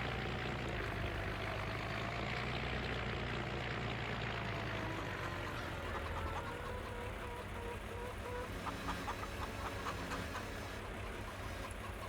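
A tractor with a front bucket loaded with sorghum grain runs on a homestead, its engine a steady, close, droning rumble that holds without pause throughout.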